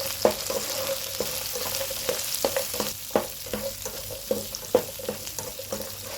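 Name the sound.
sautéing onions, green chillies and cashews in a pan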